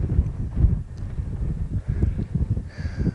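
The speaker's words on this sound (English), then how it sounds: "It's windy up here, but not bad." Gusty wind on the summit of the Organ Needle in the Organ Mountains near Las Cruces, New Mexico, a steady low rumble buffeting the microphone throughout.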